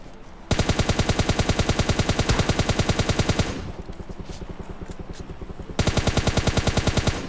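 Rapid automatic gunfire in a video game shooter match, long loud bursts of evenly spaced shots, a brief quieter stretch of more distant fire, then another close sustained burst.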